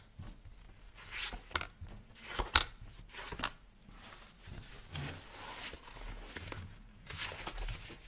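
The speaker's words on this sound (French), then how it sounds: "Je remélange bien le jeu pour vous les poissons. Allez, c'est parti, j'étale les cartes" Tarot cards being shuffled and spread out across a table, giving soft, irregular rustles and light slaps close by, with no talking.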